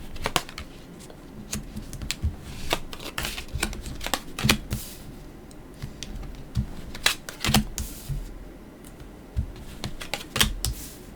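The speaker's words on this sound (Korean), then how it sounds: "타로 카드 열어볼게요" Tarot cards being laid out for a weekly Sagittarius horoscope reading, giving a steady run of soft, close card slaps and shuffling flicks at irregular intervals, alone with no talking.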